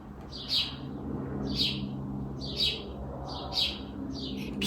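A bird outdoors in France chirps five times at a steady rhythm, each call a short, bright tweet, heard clearly over a low, constant background hum.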